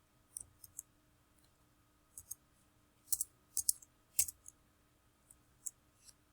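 Keys click on a computer keyboard in sparse, irregular taps, small clusters of crisp keystrokes separated by pauses, quiet and close against a faint hum.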